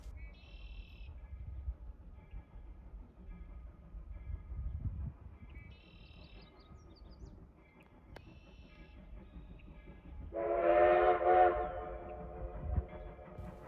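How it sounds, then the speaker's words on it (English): Rio Grande 340 steam locomotive on home rails between Rockwood and Durango, with brief whistle blasts early and midway and a louder, longer whistle near the end over a low rumbling, rolling background. "the locomotive was finally allowed to continue from Rockwood south back to Durango"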